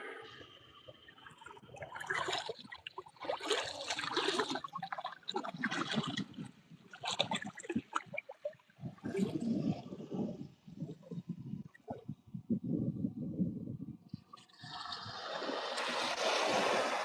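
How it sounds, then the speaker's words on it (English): Water swirls in a woodland setting and surges back out in uneven gushing bursts, close and rising and falling, ending in a steadier rush. "That swirl. Water coming back out."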